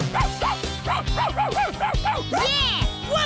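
A cartoon dog yips and barks in a quick, excited string of high bouncy woofs, close and lively, with a final stretched whimpering call.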